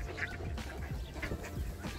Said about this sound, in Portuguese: Uma pataiada junto aí, ó, os passarinhos.